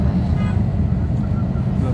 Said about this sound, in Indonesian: ini naik bus itu asik ya